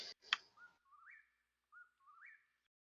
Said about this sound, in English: It's a whippoorwill, which is usually considered a sign of Pharasma's pleasure.